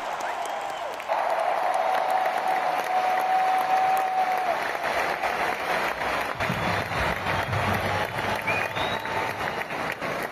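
A concert crowd applauds and cheers at a show in Paris, a dense, steady roar of clapping that holds loud and continuous from start to finish.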